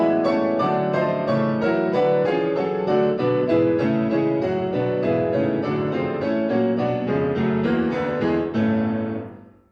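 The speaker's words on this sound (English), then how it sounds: "So I'll keep my pedal down for a lot of this just to get that blurring sound of church bells ringing" Solo piano held on the sustain pedal, dense chords blurring together like ringing church bells, loud and continuous throughout before fading at the end, in a Rachmaninoff variation on a Chopin theme.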